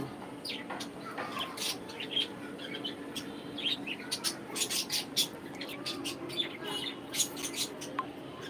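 Pet parakeets and mynas chirp and tweet in quick, high bursts, scattered and overlapping, close by against a quiet background.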